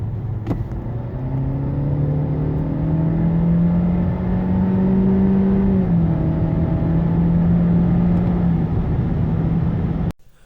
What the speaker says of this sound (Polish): Reakcja na gaz jest bardzo dobra, auto ma świetne osiągi, a skrzynia sprawdza się idealnie.